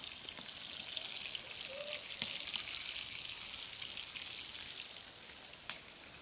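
White eggplant frying in hot oil, a steady soft hiss and crackle like light rain, with one sharper clatter near the end.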